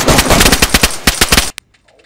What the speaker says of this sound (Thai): ผมเนี่ยพยายามไล่เก็บทุกคนที่เข้ามายิงตีผมเลยนะครับ